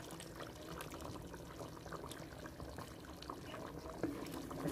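About 150 grams of yogurt is poured into a pan of peeled tomatoes for black pepper chicken karahi. A faint, soft wet pouring and gentle plopping continues steadily for a few seconds.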